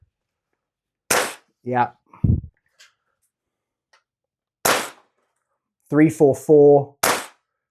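Three sharp, loud shots from a Double Eagle N4 gas blowback airsoft rifle, spaced several seconds apart, with someone speaking briefly between them.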